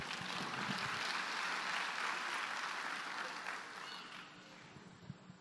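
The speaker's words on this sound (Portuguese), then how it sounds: "Muito bem, palmas para você." An audience applauds a student during a talk on school and a culture of peace: a sustained wash of clapping that thins and fades toward the end.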